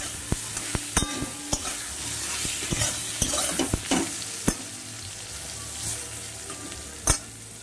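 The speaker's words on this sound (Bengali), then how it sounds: "বেগুনগুলো এইভাবে কিছুক্ষণ নাড়িয়ে চাড়িয়ে নেব।" Brinjal pieces sizzle steadily in a frying pan as a spatula stirs them, with repeated sharp clicks and scrapes against the pan over a constant close hiss.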